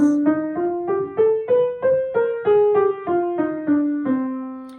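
A melodic minor scale rises note by note and then descends back down, each plucked tone ringing briefly, played alone at a moderate pace.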